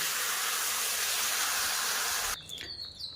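Water poured into a pan of hot fried spice and tomato base for a fish curry sets off a loud, close, continuous steamy hiss that cuts off abruptly, leaving quieter rattling and light clatter.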